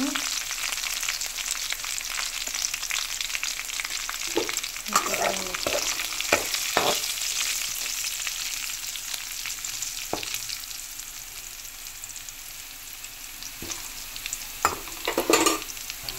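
Curry leaves and turmeric fry in hot oil in a pan. A continuous crackling sizzle runs throughout, with occasional sharper knocks and scrapes from stirring, and no voices.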